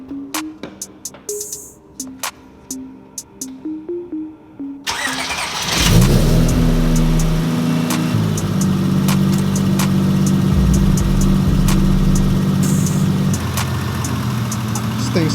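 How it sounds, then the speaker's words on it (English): An Acura CL Type S V6 cranks and catches after a few seconds of quiet, then settles into a steady, loud idle that continues to the end with no misfire. "I'm gonna start this thing, make sure it's not misfiring or anything goofy"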